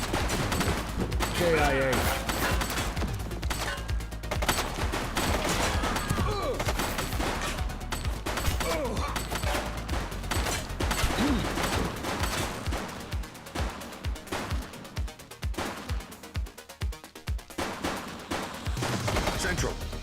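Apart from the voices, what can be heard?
gunfire from the video game The Precinct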